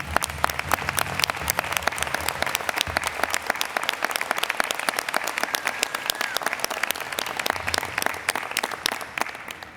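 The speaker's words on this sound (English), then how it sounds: "I think we should join in an applause for Dr. Ellen Ramey for joining us this morning" A convocation audience applauds steadily for the full stretch, dense clapping filling the hall at a loud, even level with no speech over it.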